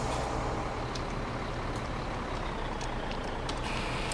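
A truck reverses in Farming Simulator 17, giving a steady loud engine rumble and a faint repeating reversing beep across the whole stretch.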